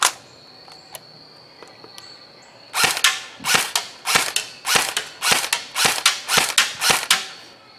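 An Echo1 Stag 15 M4 airsoft rifle powered by a 9.6 volt battery fires a couple of single shots, then a steady series of about a dozen sharp, evenly spaced cracks at close range, with no talking.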